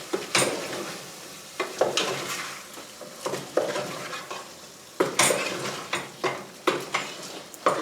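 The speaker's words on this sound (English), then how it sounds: "Okay, and I'll give that a bit of a stir." Pork and endive fricassee stirred in a pot with a utensil, giving repeated scraping and clinking strokes against the metal at an irregular rhythm, close and fairly loud, over a faint sizzle.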